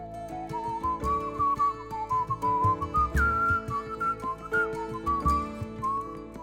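A person whistles a lilting tune alone, close and clear, with a wavering melody and a soft rhythmic accompaniment underneath.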